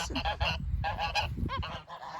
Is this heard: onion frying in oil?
no